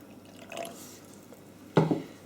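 Cold water is poured into low-protein fruit scone mix, landing in one brief splash after a quiet lead-in.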